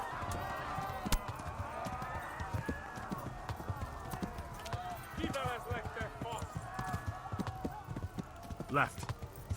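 Horse hooves clip-clop at a rapid gallop in the video game Kingdom Come: Deliverance, a steady fast rhythm of hoof strikes under voices and game sounds throughout.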